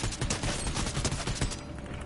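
Rapid bursts of gunfire in Fortnite, a dense run of sharp cracking shots at fairly even loudness that thin out near the end, with no speech over them.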